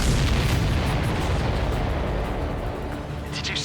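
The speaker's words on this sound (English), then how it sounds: "Did you see that explosion?" Enemy supply ship blowing up in the Ace Combat 7 jet combat video game, a loud, broad rumbling blast that roars steadily for several seconds before tailing off.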